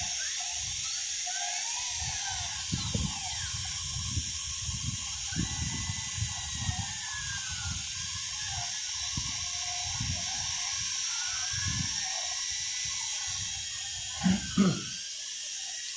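A CNC machine runs with whining motor tones sweeping up and down over a constant high hiss, joined by intermittent low rumbling pulses, steady and fairly close, with no voices.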